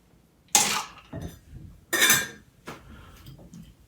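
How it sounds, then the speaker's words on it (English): Ice being packed into a cocktail shaker tin while making a Harvey Wallbanger, heard as two loud bursts of clattering, clinking cubes with smaller rattles and knocks between and after them, close and with no one talking. "And then we're going to pack our tin with ice."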